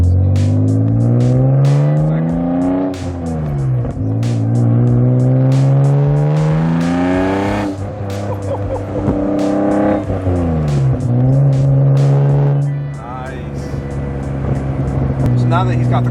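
A straight-piped BMW M Roadster with a manual gearbox drives and revs through several gears, its loud raw exhaust rising in pitch, dropping at each shift and rising again, heard from inside the car with people talking over it.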